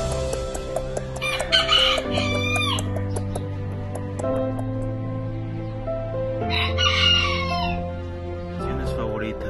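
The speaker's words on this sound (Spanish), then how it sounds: "mi pequeño criadero de gallos miniatura" Miniature roosters crow loudly in long cock-a-doodle-doo calls, twice, with clucking and other birds around them, close by.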